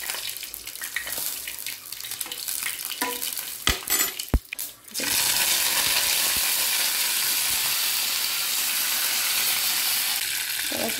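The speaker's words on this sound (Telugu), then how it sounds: "ఈ ఉడికిపోయిన పొట్లకాయలను నూనె లేసి ఫ్రై చేసినప్పుడు ఇక మంచిగా మెత్తగా" Boiled ridge gourd pieces hit hot oil in a pan: soft clatter and knocks first, then a sudden loud, steady sizzle that holds strong and continuous to the end, with no talking.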